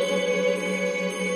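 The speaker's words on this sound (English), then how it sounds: "Here, I took this bell sample right here." A bell sample with added delay effects rings as a sustained, even metallic tone with stacked steady overtones, short and fairly quiet, playing alone in a hip-hop production setup.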